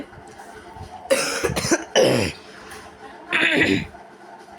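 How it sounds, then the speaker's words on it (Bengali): A person coughs several times in short, loud, raspy bursts close to the mic, with some throat-clearing sounds between the coughs. "আমার একটু কাশি আছে।"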